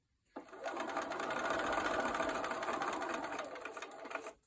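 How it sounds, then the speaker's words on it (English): A sewing machine stitches fabric for a paper-pieced heart block, starting abruptly and running in one fast, even burst of rapid needle clatter for about four seconds before stopping, close and alone. "When I start sewing, I want to come in right here on the edge of that dotted line and sew straight to the dark line."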